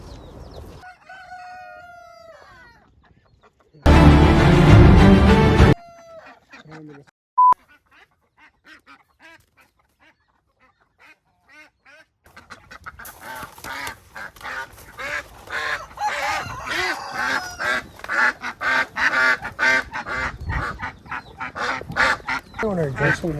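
Ducks and other fowl at an outdoor swap meet give scattered honking, quacking calls, with one loud close burst and a later stretch of busy overlapping cries.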